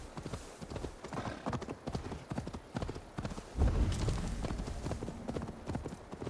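Horse hooves clip-clop in a quick, steady rhythm in Assassin's Creed Valhalla, close and clear, with a brief heavier thud partway through.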